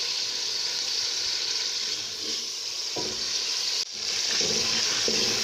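Ginger garlic paste frying in hot ghee in a cooking pot, a steady close hiss and sizzle with a brief clatter of stirring partway through, no voices.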